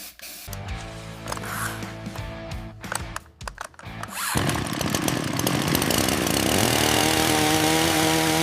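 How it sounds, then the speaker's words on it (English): A restored old chainsaw runs during a chain oil throw test on cardboard: close, uneven idling and revving, then a sustained loud high-pitched buzz at full throttle. "Start the oil throw test on the cardboard."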